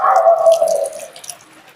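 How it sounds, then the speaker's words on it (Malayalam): Water poured onto a car windshield glass treated so drops do not stick, a close, loud splashing pour that fades out over about a second and a half, with no talk. "നമുക്ക് വെള്ളം ഒഴിച്ച് നോക്കാം"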